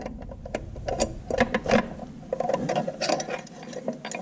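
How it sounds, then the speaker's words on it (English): A closed-end wrench turns a bolt on an IHC Farmall Super MT tractor during a clutch throw-out bearing install, giving close, irregular metallic clicks and ticks with small clanks of steel on steel. "I'm just using a regular old wrench, closed end, upside down, and turning it"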